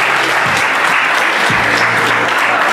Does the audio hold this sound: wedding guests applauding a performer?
yes